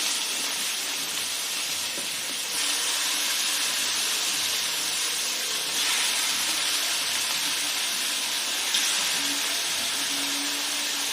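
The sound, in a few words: onions and chicken frying in a pan for chicken curry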